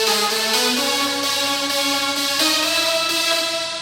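A layered synth lead from a house track, built from about ten stacked synth patches, plays alone as a bright, dense, sustained tone that shifts pitch in a few stepped moves at steady high volume.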